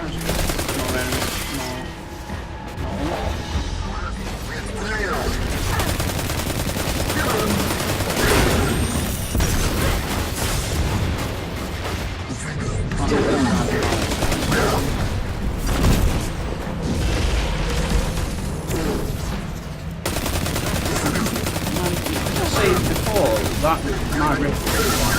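Sustained rifle fire and explosions in the video game Destiny 2 during a heroic strike, loud continuous bursts of shots layered with booms, with a player talking over the combat throughout.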